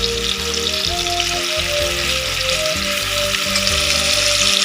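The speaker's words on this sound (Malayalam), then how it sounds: "ചിക്കൻ ഒന്ന് പൊരിച്ചെടുക്കാം." Chicken for a Hyderabad-style chicken fry sizzles steadily in hot oil in a pan, a continuous close crackling hiss with no talk.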